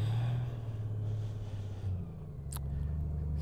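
A Honda Goldwing motorcycle engine hums low and steady while riding a slow figure eight in a sandy subdivision parking lot, quiet and fairly distant, with a brief rise and dip in its rumble.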